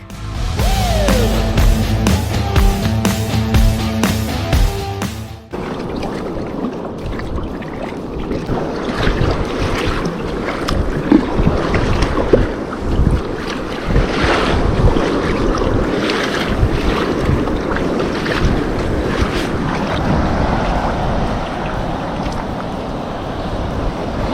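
Kayak paddling across open ocean toward an island, preceded by a few seconds of music, then continuous wind buffeting and sloshing water with a steady, close rush throughout.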